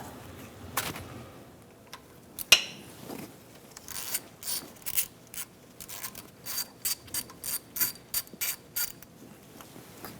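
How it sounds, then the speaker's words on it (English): Ratchet wrench with a long 8mm socket and extension backing a bolt out of a 2012-2018 Ford Focus, a brief burst of clicking followed by repeated short ratcheting strokes in a steady rhythm, close and clear. "An 8mm socket, a long one, and an extension. I'm going to take out this bolt."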